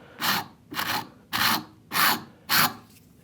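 Five steady rasping strokes of the coarse side of a file against the corner of a wooden router plane body, each about a third of a second long and evenly spaced, close up with no talk.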